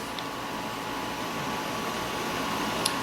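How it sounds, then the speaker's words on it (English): Room air conditioner running, a steady, even broadband hum and whoosh that continues unchanged throughout with no talk over it. "hopefully you can hear me over the air conditioner"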